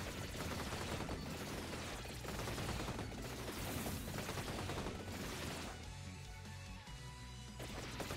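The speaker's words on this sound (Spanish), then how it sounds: "Disparo proyectiles explosivos que siguen a los enemigos." Explosive homing projectiles in the video game Vampire Survivors, a rapid, dense barrage of crackling gunfire-like bursts and crashes, with rhythmic volleys that thin out briefly before resuming, loud and continuous.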